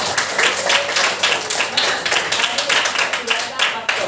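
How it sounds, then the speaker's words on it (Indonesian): A classroom group claps together during a mathematics lesson, a dense, rapid patter of hand claps at close range with voices mixed in underneath. "kita beri aplaus dulu"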